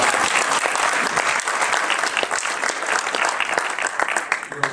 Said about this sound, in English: I think that's worth a round of applause right there